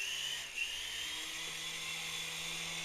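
A radio-controlled toy helicopter flies close by with a continuous high, whining motor buzz that holds steady throughout, with a slight dip early on.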